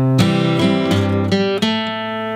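An acoustic guitar plays the closing measure of the third line of a song: a run of clear plucked chord strikes in steady succession, then a last chord left ringing and fading, with no voice over it.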